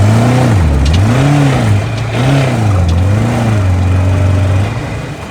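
Tofaş Şahin car engine revving and accelerating while driving and cornering, a loud steady mid-pitched drone rising and falling in repeated swells, close and continuous before easing off near the end.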